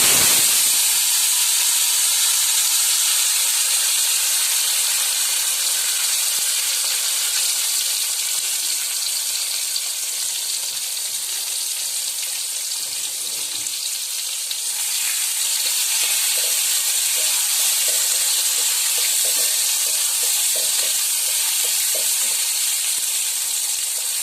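About two spoons of mustard oil heat in a pan, producing a loud, continuous hiss and sizzle close up that holds steady throughout, with no voices.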